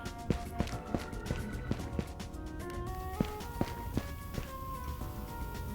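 Steady footsteps thud in a regular rhythm beneath a constant hum and background music, moderately close.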